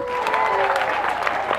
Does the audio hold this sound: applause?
yes